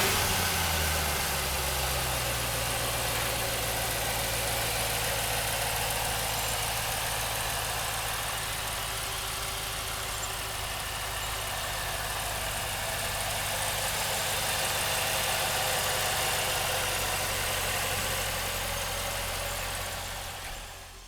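A 2023 Cadillac CT5-V Blackwing idles with a deep, steady rumble, close and loud, holding an even level for about twenty seconds with no talk.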